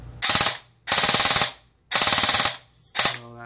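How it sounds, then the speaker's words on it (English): An airsoft gun fitted with a Nano Nukefet fires four loud, close full-auto bursts, each a rapid buzzing rattle of shots separated by short pauses. "So this is full auto, and then I'm going to do a couple semi-autos and see if it gets warm at all."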